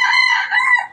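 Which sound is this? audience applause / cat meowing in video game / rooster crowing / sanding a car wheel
rooster crowing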